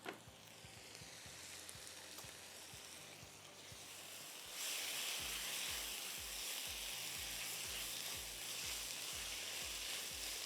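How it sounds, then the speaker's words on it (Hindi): Butter sizzling and frying in a saucepan at the start of a white sauce, a steady close crackling hiss that grows louder partway through, with faint low clinks of the pan. "यहाँ मेरे पास मक्खन है जो पिघल चुका है हमारे सॉस पैन में।"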